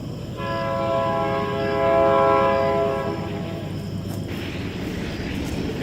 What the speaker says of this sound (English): That's the train that comes by about every 10 minutes.